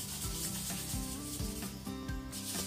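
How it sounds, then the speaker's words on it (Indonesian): Fine sandpaper scrubbing a squat or sit-down toilet bowl crusted with stains, a steady rhythmic rubbing of repeated strokes, close and continuous with no talk. "Jadi di sini aku menggunakan alat yaitu amplas."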